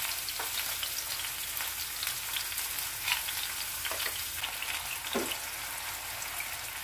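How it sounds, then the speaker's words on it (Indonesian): Mushrooms sautéing in a generous amount of olive oil for spaghetti aglio olio give a steady, close sizzle and crackle, with a few soft stirring scrapes and no talking. "Ini aku emang sengaja tumis jamurnya dulu ya, biar nanti bawang putihnya itu nggak hangus."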